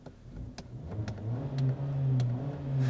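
A 2016 Fiat 500X with the 2.4 engine, parked, revs up from idle in a few rising pushes, then holds a steady high drone, loud and close with no talking.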